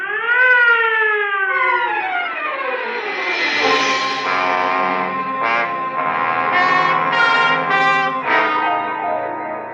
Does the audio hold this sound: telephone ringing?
no